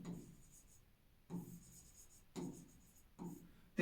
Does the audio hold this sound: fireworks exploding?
no